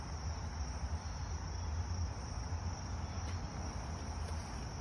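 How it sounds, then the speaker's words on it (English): Crickets chirp continuously in a steady, faint high-pitched drone over quiet low background noise, with no voices. "there's crickets all over"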